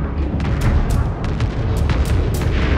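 In the space combat game Homeworld 3, a hostile frigate blows up with a burst of heavy booms and rumbling blasts that overlap in quick succession, loud and close throughout.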